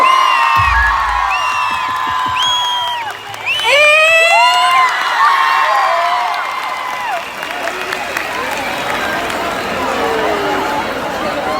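An audience cheers and shouts right after a marriage proposal made on stage at a live show, loud excited voices rising over a crowd roar with scattered clapping beneath, swelling near the middle and then settling into steady hubbub.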